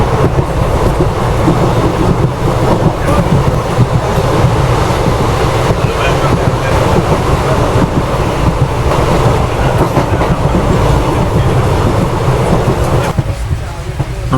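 Weekly Express train rolling along the rails between Pondicherry and Mangalore via Salem, a loud, continuous rumble with rhythmic clickety-clack and carriage rattle throughout.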